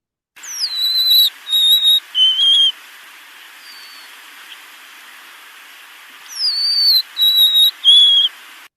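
A golden-crowned sparrow sings its mournful three-note song twice, clear descending whistled syllables, loud and close, with a pause of silence between the two phrases.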